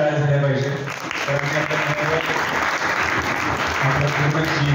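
An audience at a science club event marking Albert Einstein's birthday claps loudly, dense steady applause with a voice talking over it throughout.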